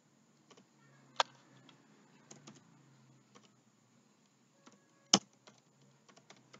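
Typing on a computer keyboard while entering month names into Microsoft Excel: sparse, close key clicks with a couple of sharper louder taps, in a quiet room.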